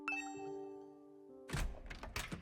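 A doorbell in The Hundred Line: Last Defense Academy rings with a clear two-tone chime that lingers and decays, followed by soft thumping footsteps or knocking sounds.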